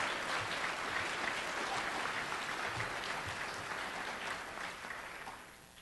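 Guests at a medical school graduation dinner give a sustained round of applause for students matched into specialties, a thick, even clapping from a crowd that slowly tapers off.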